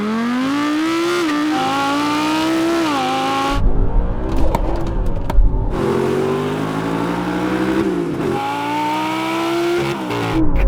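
Several generations of Audi R8, including a V8 version, launch hard in a drag race, loud engine howls rising through gear changes with brief tire chatter and wind-buffeted rumble, no talk over the engines.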